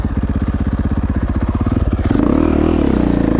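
A KTM 450XC-F dirt bike engine runs loud and close while being ridden, with a steady throbbing pulse that rises into a harder, revving surge partway through.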